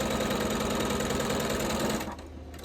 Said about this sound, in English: On the backgrounds, you're sewing right down the middle,